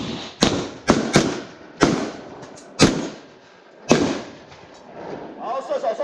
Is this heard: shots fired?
yes